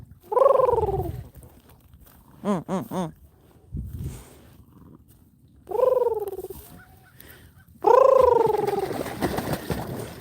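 A tiny cackling goose honks and cackles in several loud, close bursts separated by pauses, including a rapid stuttering run of short calls midway.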